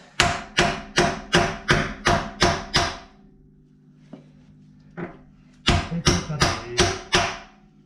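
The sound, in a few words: hammering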